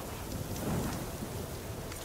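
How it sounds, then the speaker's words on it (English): A thunderstorm rumbles in Horizon Forbidden West, with lightning and thunder over a steady wash of rain, a low rolling swell in the middle of the short stretch. "And a lot of lightning and thunder."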